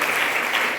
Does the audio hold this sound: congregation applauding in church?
yes